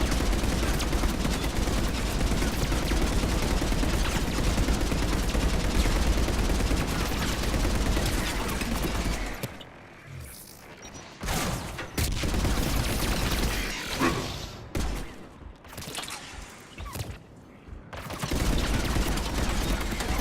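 Gunfire in Mass Effect 3 multiplayer: dense, continuous automatic weapon fire and battle noise for about nine seconds, then a quieter stretch of scattered shots and bursts before the firing builds again at the end.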